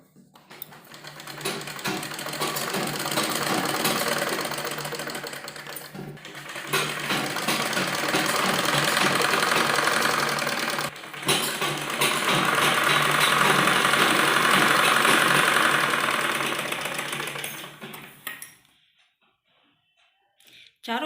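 A sewing machine stitches the seat seam of a lined palazzo, running loud and steady in long continuous bursts with brief pauses, then stopping near the end.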